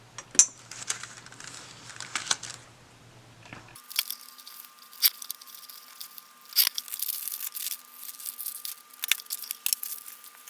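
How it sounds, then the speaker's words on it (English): Paper being cut for a handmade junk journal, close and crisp: snipping and tearing crunches in a steady series, quiet at first and then brighter, with a faint steady background hum. "I'm going to go ahead and cut this"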